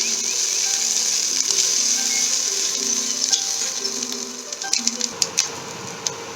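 Filling for stuffed spiny gourd (kakrol) fritters fries in a pan, with a steady close sizzle and hiss, and a few sharp clicks and stirring taps toward the end.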